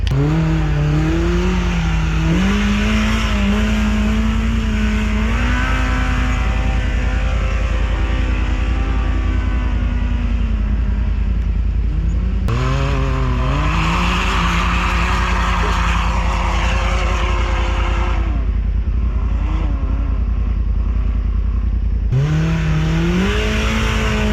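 Off-road vehicle climbing a short snowy hill in Ione, the engine loud and close, revving in rising and falling surges with gear-like pitch steps and brief drops, alone with no talk.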